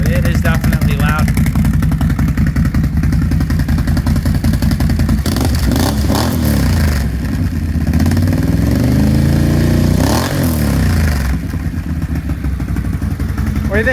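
A loud motorcycle exhaust with loose packing barks steadily at close range, idling with a rough throb and swelling into a few revs, while someone talks over it.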